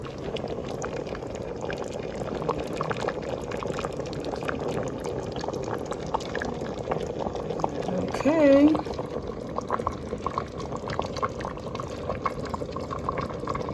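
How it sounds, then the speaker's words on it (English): Vegetable soup with pasta and kale bubbles at a steady rolling boil in an Instant Pot on the saute setting, the simmering constant throughout while a voice speaks briefly partway through. "See how that's boiling? That's what a saute does."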